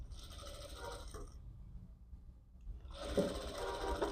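A sewing machine stitches a blouse along a marked line, its fast mechanical whirr running steadily, pausing briefly in the middle, then resuming loudly and close.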